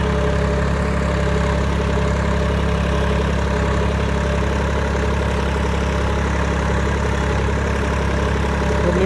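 A Massey Ferguson 5245 DI tractor engine idles nearby, a steady, loud low-pitched throb with an even mechanical rhythm and no voices throughout.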